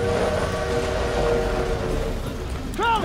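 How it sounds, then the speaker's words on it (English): Train in the World War II shooter Call of Duty WWII, a loud rumbling, rolling roar with tonal whistle-like squeals over it, and a short voice cry near the end. "train's leaving!"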